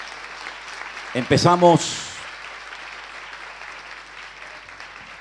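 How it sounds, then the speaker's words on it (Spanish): A church congregation applauds during a Spanish-language sermon, a steady, soft wash of clapping that runs throughout, with one brief spoken word from a nearby voice early on. "Fuertes aplausos para el Señor."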